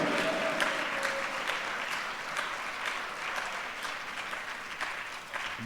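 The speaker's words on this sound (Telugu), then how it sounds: "చప్పట్లు కొట్టి విశ్వసించిన వాళ్ళు హర్షించండి, ఆనందించండి, ఆయన నామాన్ని ఘనపరచండి" Steady applause from a church congregation at a Telugu Christian Sunday service fills the whole stretch, dense clapping at an even level with no voices on top.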